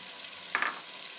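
Chicken sizzles in a hot pan, a soft continuous hiss with a short, brighter burst of crackling in the middle.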